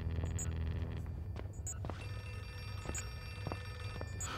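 An old-style telephone bell rings steadily in a dark room in the horror game Outlast 2, a continuous metallic trill running under a low droning ambience, with sharp intermittent clicks and knocks scattered throughout.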